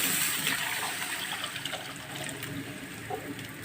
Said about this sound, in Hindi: मैं यखनी डालने लगी हूँ